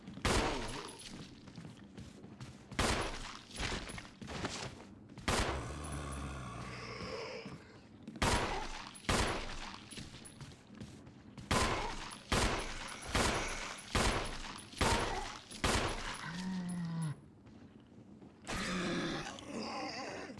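Rapid gunfire rings out in the Resident Evil 1 video game: loud, sharp shots come in clustered bursts and single cracks across the stretch, with brief gaps and some grunting or growling game sounds in between.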